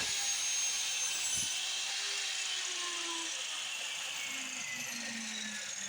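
A power saw cuts 45-degree angles in 2x4 pine lumber for a rustic shelf frame, giving a loud, steady, continuous whine close by for the whole stretch with no talking.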